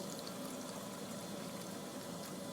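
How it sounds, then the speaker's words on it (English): Drinking water pours steadily from a WaterBoy atmospheric water generator at the press of a lever, a continuous close splashing stream filling a container with no break. "provide ultra pure drinking water simply at the touch of a lever"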